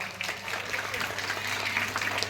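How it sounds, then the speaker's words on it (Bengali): Audience clapping at a school's annual autumn cultural festival in Bengal, steady applause from a crowd sustained throughout with some voices mixed in. "করতালি, অবশ্যই জোরে করতালি হবে সবার"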